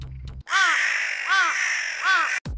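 Crows in the game Identity V caw three times, each a loud, close, harsh call spaced about a second apart, with a faint low hum before and after.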